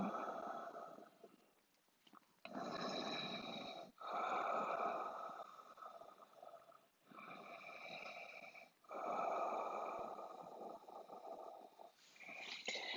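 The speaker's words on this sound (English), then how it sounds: "Let's breathe." Deep, slow breathing during a yoga session: several long inhales and exhales in a steady rhythm, close and fairly soft, with brief pauses between breaths.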